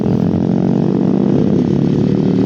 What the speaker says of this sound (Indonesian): motor rame-rame banget ya